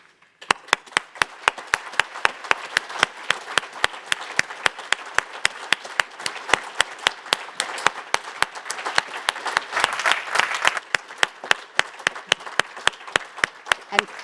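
Applause at a doctoral ceremony, with steady, rhythmic clapping that starts abruptly and runs on, swelling slightly in the middle. Crisp individual claps stand out over a dense layer of hands.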